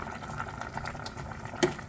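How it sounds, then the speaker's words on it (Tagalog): Pot of beef spare ribs soup with sweet corn, French beans and Chinese cabbage boiling, a close, continuous bubbling and gurgling with one louder pop near the end. "So, pakuluan lang muna natin kasi okay na po yung yung sweet corn and also the French beans."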